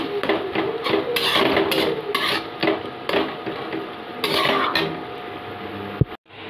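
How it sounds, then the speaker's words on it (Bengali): Grated ginger being stirred into cooking ingredients in a home kitchen pan, with repeated scraping and clinking strokes of a utensil in a steady rhythm, close and fairly loud, ending in a sharp knock. "এবার মিশিয়ে নিই ভালো করে আদাটা"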